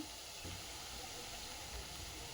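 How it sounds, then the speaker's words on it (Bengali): Puffed rice pakoras deep-fry in hot oil until reddish, giving a steady, even hiss and sizzle that runs throughout at a low, soft level without any speech. "বাকিগুলো ভেজে নিচ্ছি ওরকম লাল লাল করে"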